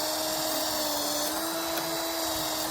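A steady, high-pitched mechanical whine from a wire wheel on a power drill stripping paint, holding a constant tone with a grinding hiss over it throughout.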